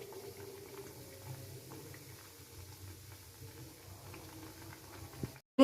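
Semolina langcha sweets frying in hot oil, a steady low bubbling and crackle that stays close and quiet, ending with a brief clatter.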